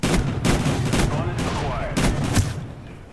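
Rapid bursts of gunfire from a Cold War-style shooter video game, several loud volleys in quick succession with brief pauses between them.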